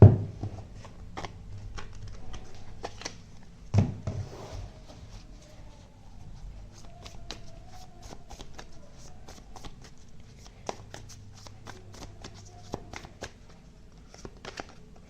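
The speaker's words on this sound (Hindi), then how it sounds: "Not too many card spirits." Tarot cards being shuffled by hand, with repeated soft riffles and slides up close and an occasional sharper tap, quiet and steady across the whole stretch.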